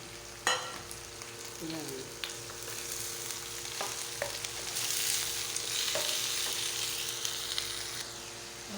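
Crab is added to a pot of squash cooking in coconut milk and stirred, with a soft steady sizzle, scraping spoon clatter and a few sharp knocks against the pot, plus a brief spoken word.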